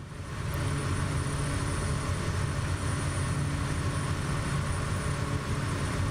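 A simulated aircraft engine in Microsoft Flight Simulator 2024 at Lord Howe Island, Australia, a steady low droning hum with a constant tonal whine, continuous and even, with no talk.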